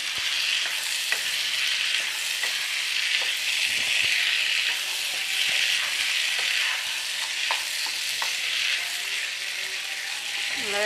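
Chickpeas sizzle steadily in a hot pan for a kadala roast, with a scraping spoon stirring them in repeated light strokes; the frying hiss stays loud and continuous throughout with no talking.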